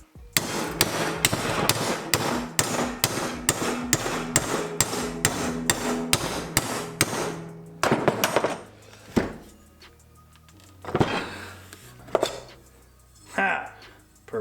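A hammer strikes a metal bracket for a Turbo 660 lawn mower in a fast, regular run of about fifteen ringing blows, then a few scattered, heavier knocks and clanks, with a voice speaking between them.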